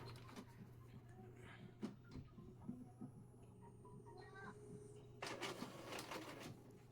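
Epson L3210-series inkjet printer pulling paper during a test print: quiet mechanical whirring and clicking with a steady hum underneath, then a louder burst of feed-roller motor noise near the end.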